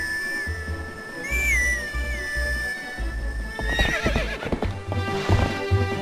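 Epona, the horse in The Legend of Zelda: Twilight Princess, whinnies sharply and then gallops, quick hoofbeats clattering over game music with a whistle-like tone.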